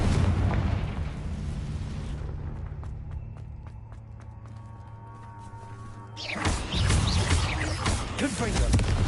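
Confringo fire-blast spell explosions in the video game Hogwarts Legacy: a dense roaring burst that fades to a lingering hum, then a second loud eruption of crackling blast debris, mixed with game voices.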